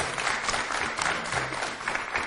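An audience applauds visiting primary school pupils at a school event in Skopje, a fairly close, dense burst of clapping that rolls on steadily with faint crowd murmur beneath.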